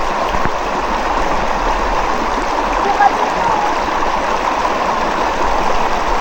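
A muddy, brown river swollen after heavy rain flows steadily at a camping farm, a continuous broadband rush of water close by with no pauses, fairly loud and unbroken throughout.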